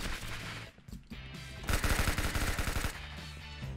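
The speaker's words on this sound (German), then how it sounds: "Jetzt habe ich eine Minigun bekommen" A Roblox minigun fires a dense, rapid burst of gunshots at close range, loud and continuous for about a second, with other game noise around it.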